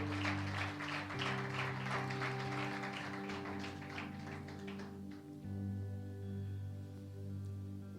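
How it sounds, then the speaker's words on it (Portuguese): A church congregation applauds in a brisk, dense patter for about five seconds, fairly faint and steady under sustained keyboard tones, before the clapping fades and the music carries on alone. "Vamos aplaudir o Senhor pela palavra dele."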